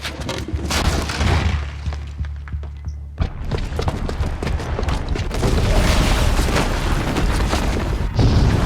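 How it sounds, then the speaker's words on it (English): A bomb booby trap detonating in Horizon Zero Dawn: a heavy, loud booming blast with rumbling low end, followed by sustained crashing debris and chaotic impacts that stay dense and loud through to the end. "the booby trap on the bomb downstairs is gonna get set off"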